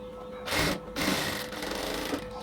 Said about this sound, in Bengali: পুরো স্লিভসটাকে সেলাই করা শেষ।